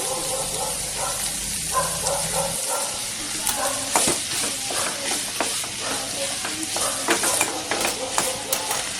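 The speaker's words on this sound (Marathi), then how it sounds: "आता आपण कांदा घालूया कांदा चांगला आपण लाल करून घेऊया" Onion sizzles in hot oil in a pan for a prawn chutney, a continuous crackling hiss with scraping stirs and clinks of a utensil against the pan, fairly close and steady.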